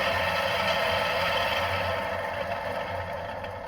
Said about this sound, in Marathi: हे बघा, मोटर फिरायला लागलं.